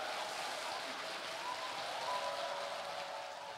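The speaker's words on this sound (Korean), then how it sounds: "박수로 환영해주십시오. 큰 박수 부탁드릴게요." Steady, dense applause from a large audience at a Korean music chart award show, as the award presenter, a TV company chairman, is welcomed onstage; a continuous even wash of clapping with no individual claps standing out.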